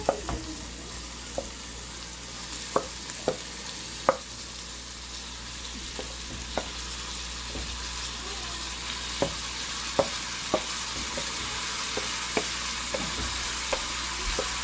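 Tomato tossed into a pan of sizzling jalapenos, a steady frying hiss with scattered clicks and taps of stirring spread through, moderately close and with no talk.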